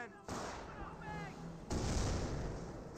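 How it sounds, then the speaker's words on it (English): Sniper rifle shots strike a US Rifleman Squad during a Company of Heroes 1 battle, heard as sharp cracks and booming reports amid dense game noise, with the loudest burst in the second half and a commentator's voice faint underneath. "The Rifleman Squad receives some sniper shots there"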